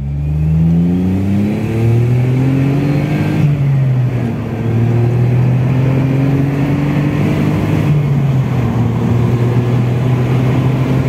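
A Smart Roadster Brabus sports car accelerates hard, its engine revving up through several gear changes with rising and falling pitch, loud and close, with no voices.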